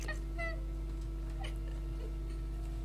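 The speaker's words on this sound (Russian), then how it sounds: "Вообще я с котом в эфире." A cat meows a few times, short, fairly close calls over a steady low electrical hum, with faint background noise between them.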